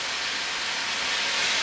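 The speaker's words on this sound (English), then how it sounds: "Now you can see I have the steam on" A steam iron hisses steadily while pressing fabric, giving a continuous, even wash of close steam noise with no pauses and no voices.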